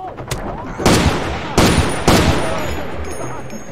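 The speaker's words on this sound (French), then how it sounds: "le mec il m'attendait avec son fusil à pompe" Three heavy, booming shotgun blasts in Far Cry 2, spaced under a second apart, loud and close over a low game background.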